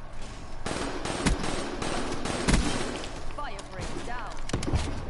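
Rapid automatic gunfire and scattered shots rattle through a first-person shooter video game match, loud and continuous with thuds and impacts, while someone talks over the action.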